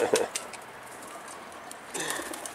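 A pigeon near a barn gives a brief coo at the start and again near the end, faint and close, with a voice speaking nearby.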